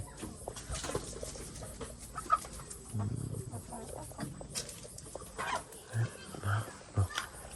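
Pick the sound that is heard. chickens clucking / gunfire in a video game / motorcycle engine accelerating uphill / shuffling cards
chickens clucking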